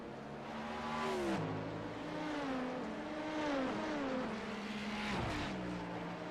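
Race cars roar past at Petit Le Mans, engines droning and shifting pitch continuously as several cars pass close by, with rising and falling whines and no talking over the steady, loud din.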